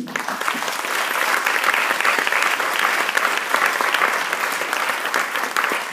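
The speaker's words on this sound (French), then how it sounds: "Messieurs, vos applaudissements, s'il vous plaît." An audience at a tribute evening breaks into sustained applause, a thick, even wash of many hands clapping close and loud throughout, with no voices rising above it.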